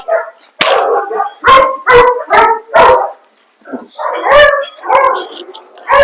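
A male long-coated German Shepherd puppy barks loud and close in two bursts of rapid barks with yelping edges, separated by a short pause.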